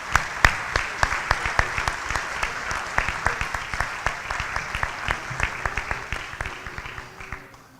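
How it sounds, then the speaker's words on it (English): An audience at a university athletics hall of fame and alumni awards ceremony applauds honorees, a steady room-filling patter of many hands with some sharper individual claps, slowly tapering toward the end. "if you could give them a round of applause for what they do in the community"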